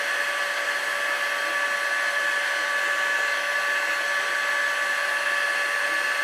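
A heat gun blows steadily on the aluminum crankcase of a Saito 45S model engine, a constant close airy roar with a fixed whine running unbroken throughout, no talking.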